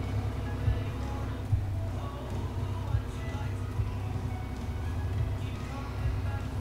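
An Eicher tractor driving in the farming game Farming Simulator 19, a steady low engine drone with a rhythmic mechanical chug running throughout, and a voice talking over it.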